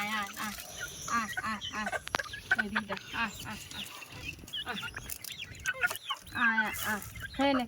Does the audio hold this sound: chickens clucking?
yes